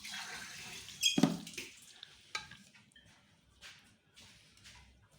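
Tap water pours into a glass in a short burst, then fainter splashes and trickles follow with light kitchen clatter in a quiet room.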